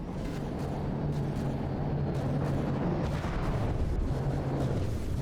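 CRAM cannon shells firing and exploding in a From the Depths battleship battle, a dense, continuous roar of overlapping booms and bursts with a low rumbling bed and no let-up throughout.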